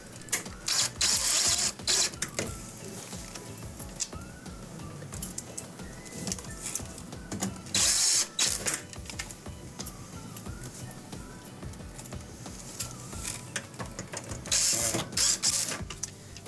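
A screwdriver drives screws into the plastic bracket of a Maytag dishwasher soap dispenser, giving close, repeated ratcheting clicks in several bursts separated by quieter handling noise.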